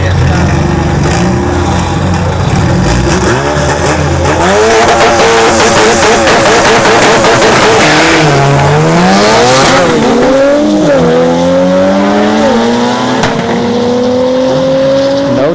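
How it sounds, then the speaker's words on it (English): Turbo Honda Civic and an Infiniti Q50 launch side by side at a dragstrip test-and-tune night, loud engines revving hard and climbing through several gear changes with tire chirp, crowd noise and commentary mixed underneath. "Got a Turbo Civic and a Q50 here on the right."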